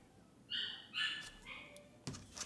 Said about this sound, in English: Can you hear the difference between a bork and a whimper?